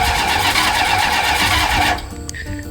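A Plymouth Roadrunner engine cranking and running loudly close by for about two seconds, then cutting off abruptly into quiet clicks.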